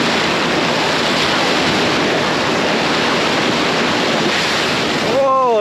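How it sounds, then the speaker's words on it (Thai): Ocean waves wash onto a white sand beach at Destin, a loud, continuous roar of surf with wind buffeting the microphone, and a brief rising whistle-like sound near the end. "ทะเลหาดทรายสีขาว"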